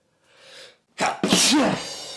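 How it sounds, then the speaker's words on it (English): A single sharp sneeze from a man, preceded by a short audible in-breath, loud and close, with no other voices around it. "Bloody hell, I'm sneezing."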